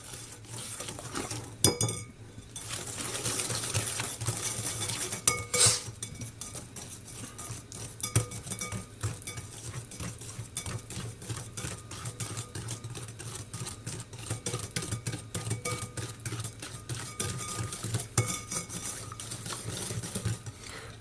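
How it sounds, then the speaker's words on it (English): A whisk scrapes and taps through soft margarine in a mixing bowl, a quick, irregular clatter with a few sharper clinks against the side, close up and with no talking. "I'm just going to literally just obviously whisk that together."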